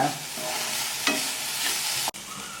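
Ginger garlic paste sautés in a pan, a close, loud, steady sizzle with a few scraping stirs and utensil knocks, cutting off abruptly near the end.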